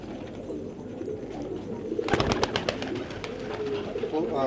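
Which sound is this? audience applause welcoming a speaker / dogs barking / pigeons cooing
pigeons cooing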